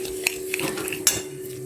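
A spoon stirs chicken marinade ingredients of black pepper, salt and oil in a bowl, giving a few sharp clinks and scrapes against the dish between soft swishing, close and isolated with no talk.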